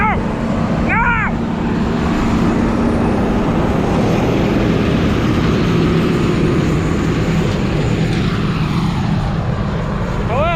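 A combine harvester circles through a harvest field, its loud, steady engine drone running close throughout with a constant rumble and whine.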